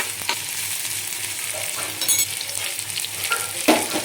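Onions and fennel seeds frying in oil for Chennai-style idli chicken soup, a close continuous sizzle with a few brief stirring clicks and louder crackles, no voices.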